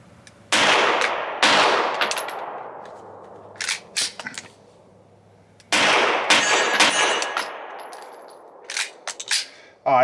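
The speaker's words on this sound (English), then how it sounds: "you can tell the gun ran fine other than light primer strikes." A SIG pistol fitted with a pinned compensator fires at a shooting range, two loud close shots, a pause with small clanks, then another shot followed by a cluster of sharp metallic clicks and clanks.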